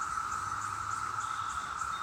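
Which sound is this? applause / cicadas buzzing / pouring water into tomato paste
cicadas buzzing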